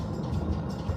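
A Denver local commuter train passing, a continuous low rumbling roar of rail and wheels, close and fairly loud without a break.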